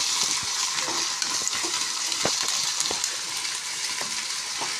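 A mutton curry is stirred in a frying pan with masala and chopped coriander. A close, constant sizzle runs throughout, with scattered taps and scrapes of the spoon against the pan and no voices.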